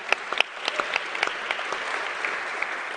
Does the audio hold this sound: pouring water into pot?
no